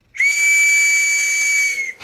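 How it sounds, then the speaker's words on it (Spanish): A Spanish sereno's whistle, the night watchman's call used to halt suspects or summon authorities, blows as one loud, steady, shrill tone held for nearly two seconds, close and alone. "El silbato era esencial para dar el alto a un sospechoso o avisar a las autoridades si era necesario."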